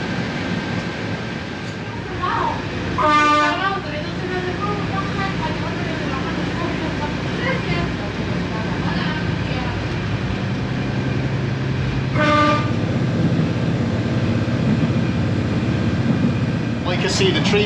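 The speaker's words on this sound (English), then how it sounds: "although the train feels like it's going at a fair pace" A slow narrow gauge train on Spain's coast rumbles along steadily with rattling wheels, and two short horn blasts sound, one early and one later.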